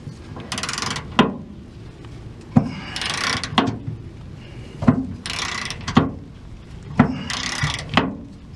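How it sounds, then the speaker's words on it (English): A bolt cuts its own threads into a Ford F150 spare tire hoist, making repeated ratcheting, grinding turns with sharp clicks at the end of each stroke in a steady rhythm, close and fairly loud. "This bolt actually has to cut the threads for this, so it's making its own threads."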